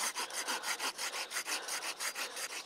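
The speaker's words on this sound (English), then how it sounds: "Cuts right through stuff quick." A Silky Pocketboy compact folding saw cuts through a short piece of wood in quick, rhythmic back-and-forth strokes, about five per second. The rasping is close and steady with no voices.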